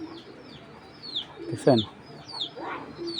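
A Cream Bar racing pigeon coos softly in a short rolling burst, close by amid other faint bird calls, with someone speaking briefly over it.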